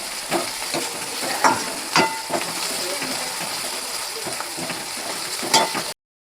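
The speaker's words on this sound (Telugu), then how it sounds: "సో చూసారు కదా, ఆనియన్స్ అయితే అలా ఫ్రై అయ్యాయి." Onions frying with salt in a pan give a steady close sizzle, broken by sharp scraping clicks of a spatula stirring them at irregular intervals.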